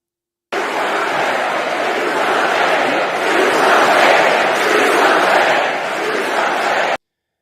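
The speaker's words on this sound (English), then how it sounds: "So the crowd is chanting "do something"" A large crowd at the Democratic National Convention chants "do something", a loud continuous roar of massed voices sustained for several seconds before cutting off abruptly.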